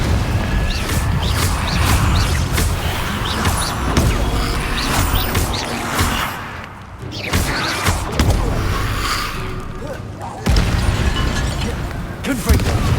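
Repeated Confringo blast spells explode in Hogwarts Legacy, a run of loud booms and crashes over a dense, continuous game soundscape with brief quieter dips between bursts.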